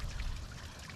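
Overspray from a garden water fountain falling over lettuce, a soft, faint continuous patter of trickling water.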